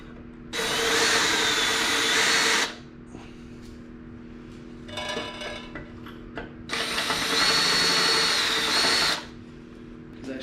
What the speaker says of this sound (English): we're gonna go ahead and bevel the hole inside and outside